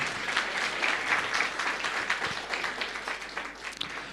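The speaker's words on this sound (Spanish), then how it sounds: "vamos a dar por favor fuertes aplausos al grupo Canto de Esperanza" A church congregation applauds a singing group at a Sunday service, steady broadband clapping from many people sustained throughout, without speech.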